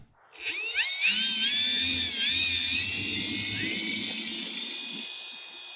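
An E-Flite RV-7 RC airplane's electric motor running on a 3S battery: a loud, steady high-pitched whine with rising and falling tones as the throttle changes, continuous for several seconds with no talk.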